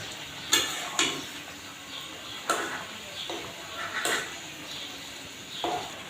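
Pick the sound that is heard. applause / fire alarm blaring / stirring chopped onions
stirring chopped onions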